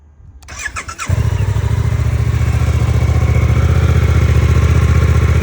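A new Suzuki GSX-8S motorcycle engine, fully stock, cranks briefly, catches, and settles into a loud, steady idle with a rapid, even putter that continues to the end.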